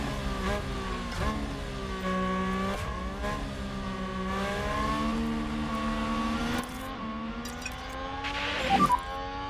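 A field of simulated Formula 1 race cars at the start of the Mexican Grand Prix in the F1 Manager 2022 game roars and climbs in pitch as the cars accelerate together off the line, with layered engine whines throughout.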